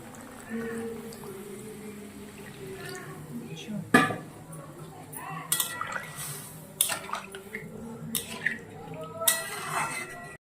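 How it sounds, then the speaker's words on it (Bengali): A metal lid clanks onto a pot of simmering curry, among several sharp clinks and taps of cookware over a faint bubbling, with a voice speaking in the background. "ঢাকা দিয়ে দিলাম।"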